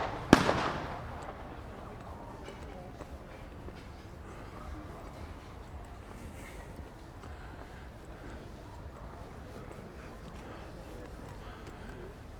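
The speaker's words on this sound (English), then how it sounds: "Some children letting off fireworks. If you're hearing bangs going off," Fireworks let off by children on an evening in Santa Ponsa, Mallorca: one sharp, loud bang at the start, then a faint, steady outdoor background with scattered distant pops.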